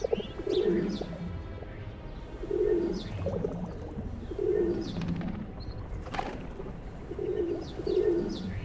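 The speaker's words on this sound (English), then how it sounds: "the thirsty pigeons head back to the empty beach once more" Pigeons coo in repeated low phrases at an empty riverside beach, several bursts spaced about two seconds apart against light outdoor ambience, with a brief sharper call or splash midway.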